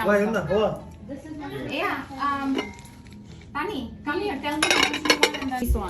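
Plates and dishes clink and clatter while being handled at a Bangladeshi community Eid gathering, with several voices including someone talking over the intermittent clinks.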